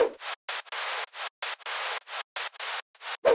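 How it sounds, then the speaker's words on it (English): Bursts of bright hissing noise chopped into a rhythmic on-off pattern, about a dozen pulses of synthetic white noise layered for texture in a bass house track, loud and alone. "To give it a more texture, I added white noise."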